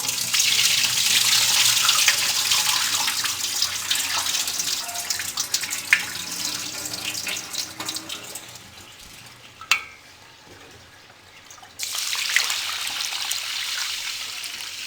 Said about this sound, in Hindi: अब फिर दोबारा मैं इस पानी को गिरा दूंगी।